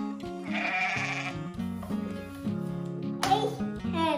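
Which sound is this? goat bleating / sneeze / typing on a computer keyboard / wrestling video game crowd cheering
goat bleating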